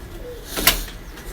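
Pigeons kept by Lahore fanciers make a single brief burst of sound, likely a coo or flutter of wings, fairly close and standing alone against a quiet background.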